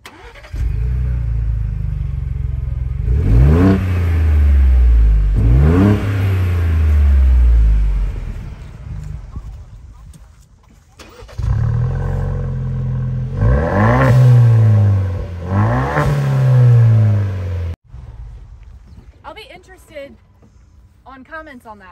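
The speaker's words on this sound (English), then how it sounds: "a really high clearance version of a muffler, the Magnaflow Overland Series exhaust system" Ford Bronco fitted with Magnaflow Overland Series and Borla exhausts revs hard up close, two sharp throttle blips, a steady idle rumble, then another pair of blips before the engine cuts off.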